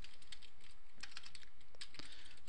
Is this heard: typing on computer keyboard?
yes